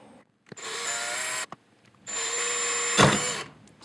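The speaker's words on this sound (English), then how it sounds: "Now I enlarge the hole with a 1/4 inch drill bit." A power drill boring a hole with a 1/4 inch bit whirs in two steady bursts with a short pause between, the second ending in a harsh grinding surge; close and loud.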